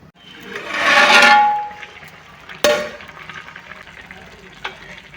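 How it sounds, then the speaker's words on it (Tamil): Crab biryani rice stirred gently in a pot, a long swelling scrape followed by a sharp metallic clang and a lighter knock later, close and loud, with no voices. "பார்த்து கிண்டிப்போம் அரிசி உடஞ்சிடக்கூடாது"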